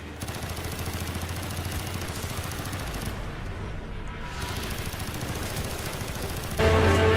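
Sustained machine gun fire in the Call of Duty: Black Ops video game, a dense continuous rattle of gunfire with a sharp louder burst near the end.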